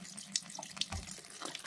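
Soy-based liquid for homemade anchovy seasoned soy sauce is poured into a container, a soft trickling, splashing stream with a few brighter drips and clinks, fairly quiet and close, with no speech.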